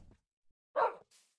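A dog in Minecraft gives a single loud bark, with a faint yip before it and a soft breathy trail after, in an otherwise quiet setting.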